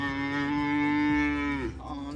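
A single long cow moo sounds close and loud, holding steady before dropping off at the end, on a farm with light background noise.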